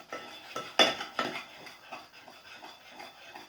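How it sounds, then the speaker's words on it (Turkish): A spoon scrapes and clinks against a bowl while stirring soft slime, with a few sharper taps early on, then quieter rhythmic stirring. "Kaşığın sesi vallahi daha fazla yükselecek."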